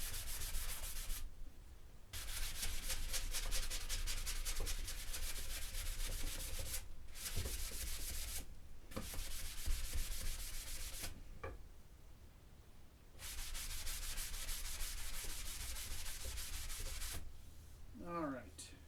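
Hand sanding with 80 grit sandpaper, close rhythmic scratchy rubbing in long runs separated by short pauses, no voices.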